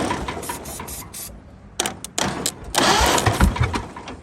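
A 1929 Ford Model A engine cranks on ether, sputtering in uneven bursts that briefly catch and die away, close and fairly loud, with mechanical clatter between firings.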